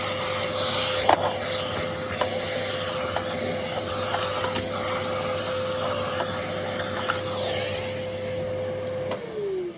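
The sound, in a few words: Dirt Devil handheld vacuum cleaner running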